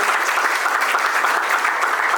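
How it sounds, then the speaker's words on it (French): Guests at a civil wedding ceremony applaud as a witness stands, a continuous, even roar of clapping from a crowd, loud and close throughout. "Avec vos applaudissements, s'il vous plaît."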